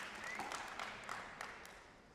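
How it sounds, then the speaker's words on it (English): Crowd applause and cheering erupting at the men's singles final of the English Open 2025 after a spectacular rally, a steady broad wash of clapping at moderate level across the whole moment with no talk. "Ronan Cameron, the crowd erupts here."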